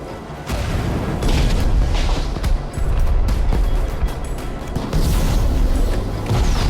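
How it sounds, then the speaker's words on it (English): Loud booming fireworks bursts in the Minecraft Story Mode video game, a dense string of explosive cracks and rumbles filling the whole stretch with a brief lull partway through. "Fireworks!"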